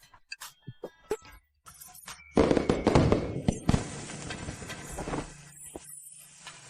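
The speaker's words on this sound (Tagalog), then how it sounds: "May paputok!" Fireworks at a celebration: scattered sharp pops and cracks, then a dense burst of crackling explosions that tapers into fading sparkle and a few late bangs.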